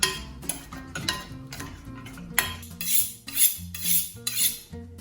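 Pasta tossed in a pan with blended cheese to coat it, giving repeated close metallic clinks and scrapes of utensils against cookware in an uneven rhythm, with no talking.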